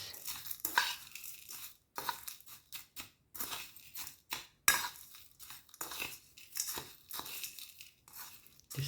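Spoon mixing chili powder into a late-night snack in a bowl, a run of scraping, clinking and crunchy stirring strokes in irregular bursts separated by brief pauses, close and moderately loud.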